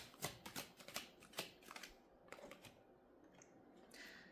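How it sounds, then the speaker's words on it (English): Tarot cards being shuffled close up, a quick run of crisp riffling flutters followed by quieter slides and taps, with no talking. "I'm just going to flow as I shuffle these cards."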